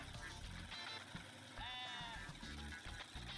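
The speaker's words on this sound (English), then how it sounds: "Finally collecting a sheep." A sheep bleats briefly over steady game music and background noise, fairly faint in the mix.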